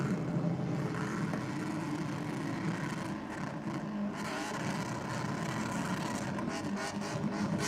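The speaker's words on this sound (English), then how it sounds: "just high rev, just on and off the acceleration, just whipping that crank" A drag racing car at night at Sydney Dragway revs hard on and off the throttle, a loud, steady, distant engine roar with rising and falling whips of the crank across the track.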